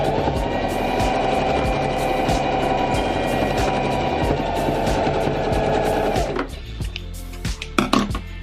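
Sewing machine stitching elastic onto a fabric face mask, a steady close whirring drone with rapid rhythmic needle clatter for about six seconds, then stopping, followed by a few handling clicks and rustles.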